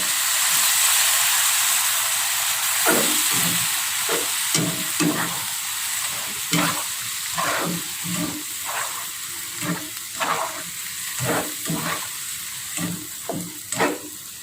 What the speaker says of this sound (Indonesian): kaldu ikan kakap, lalu kaldu udang. Kita aduk rata ya.